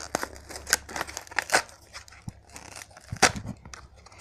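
Several sharp snips and crisp rustles in quick, irregular succession, close by, like scissors cutting through stiff packaging, with no talking.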